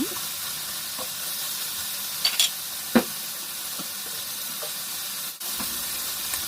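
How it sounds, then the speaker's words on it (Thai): Pork belly stir-fried with shrimp paste over medium heat gives a close, steady sizzle broken by a few sharp clicks and scrapes from the utensil, with no voices. "เราก็จะผัดหมูสามชั้นกับกะปิให้เข้ากันดีให้กะปิกระจายทั่วถึง"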